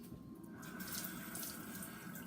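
Kitchen tap running as a kitchen knife is rinsed under it, a steady close splashing rush of water that lasts throughout.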